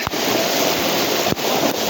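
Floodwater rushes and roars steadily during heavy rain in Umej village, Una taluka, with a loud, continuous broadband wash that barely dips, close and unbroken, with no voices.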